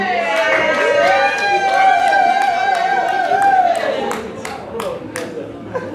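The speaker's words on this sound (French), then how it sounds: "Applaudissez encore ce monsieur." Guests at a surprise 60th birthday party in Orly Ville clap and cheer together while a voice speaks over the crowd, the applause fading toward the end.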